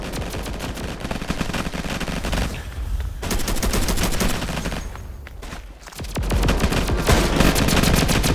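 A ray gun in the Roblox game Flag Wars fires in rapid, continuous volleys, loud and close, with a brief lull before the shooting picks up again.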